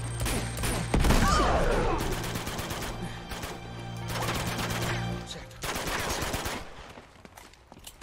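Enemy gunfire in the Uncharted 2 video game, repeated bursts of automatic shots over about eight seconds with pauses between volleys, loud and close, with talk over parts of it.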